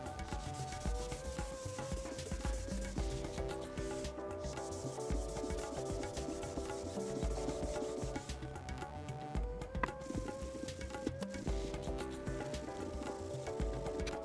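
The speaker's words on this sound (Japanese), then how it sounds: "でピカールでこんな感じで磨いていくんですけど" Kitchen knife blade being polished by hand with Pikal metal polish on gauze, a soft continuous rubbing and scrubbing in repeated strokes, close and fairly quiet, with no talking.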